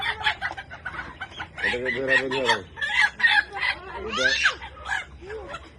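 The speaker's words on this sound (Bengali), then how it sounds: "এই যে মুরগিগুলা, আরো মুরগি বেরোচ্ছে।" Several chickens cluck and squawk in short irregular bursts close by, with bits of voice mixed in among the calls.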